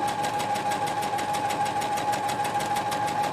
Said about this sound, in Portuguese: Vou posicionar a sapatilha ao lado e vou costurar, sempre mantendo a sapatilha ao lado.